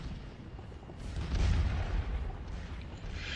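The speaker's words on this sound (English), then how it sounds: "So artillery is starting to open up." Artillery fire in a Napoleonic battle video game, a muffled distant boom swelling and rolling over a low rumbling backdrop, with no talk over it.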